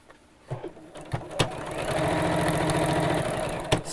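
A sewing machine stitches the seam of a woodland pouch bag, first in a few short bursts, then running steadily for about two seconds at close range before stopping with a final click.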